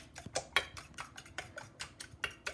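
A whisk strikes the sides of a bowl of brownie batter in a steady run of sharp, close clinks and ticks, with no voices.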